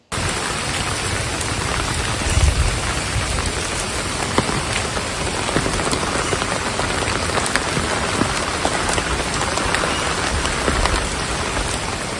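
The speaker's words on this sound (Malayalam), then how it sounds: "അതുകൊണ്ട് തന്നെ ശക്തമായ മഴയിൽ കുത്തിയൊഴുകുന്ന വെള്ളം റോഡിലൂടെയാണ്." Heavy rain pours onto a road in a dense, constant roar of drops, loud and unbroken from start to finish.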